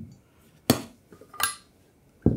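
A spoon scoops hot chocolate powder into a mug with three sharp clinks against the mug and soft scraping between them, close up and with no talk.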